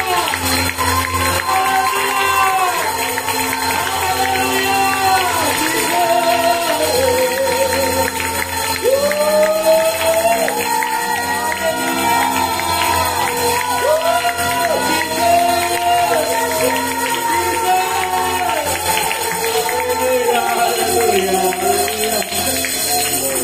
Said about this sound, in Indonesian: Beri tepuk tangan yang menyawat Tuhan kita. Dan sorakan haleluya.